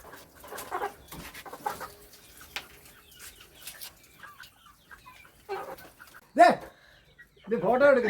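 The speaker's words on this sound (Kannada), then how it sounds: "ಇಲ್ಲಿ ನೋಡಿ ಅದರೊಟ್ಟಿಗೆ ಕೋಳಿಗಳು ಕೂಡ ಉಂಟು" Chickens cluck on a rural farm near a cattle shed, with several short bursts of fowl calls toward the end that stand out over quieter speech and ambient background.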